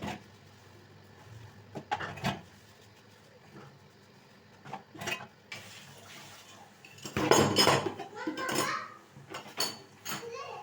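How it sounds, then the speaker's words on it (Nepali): Dishes, pots and pans being washed by hand, with intermittent clinks and clatters of utensils and splashing water, close by, louder in a burst near the end, with a voice talking at times. "मैले चाहिँ भाँडा माझिसकेँ"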